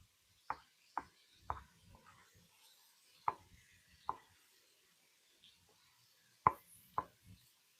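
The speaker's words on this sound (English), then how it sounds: "we're just going to give them kind of just a loose chopping here" A knife chops fresh tomatoes on a cutting board with sharp, distinct taps, several in a loose irregular rhythm and close up, with quiet pauses between strokes.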